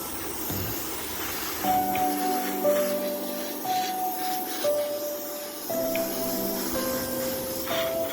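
An airbrush sprays a light first coat of thinned Tamiya paint onto a Nissan Silvia model car body, a steady close hiss with an underlying compressor hum and shifting whistling tones that change pitch several times.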